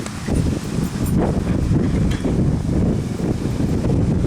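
Outdoors in nature, wind gusts buffet the microphone in a loud, steady, low rumbling roar that swells and dips, with no voices.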